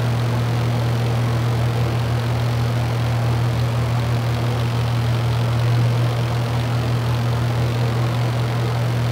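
Steady, loud aircraft engine drone heard inside the cockpit on a flight from KJAC toward West Yellowstone, a constant deep hum with a strong low tone that continues unbroken throughout, with no voices over it.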